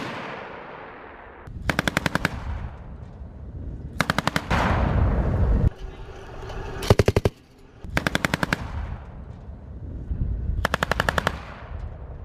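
Bursts of rapid automatic gunfire follow a firing command, loud and close, several separate volleys of sharp rattling shots spaced a second or two apart, each ringing out briefly.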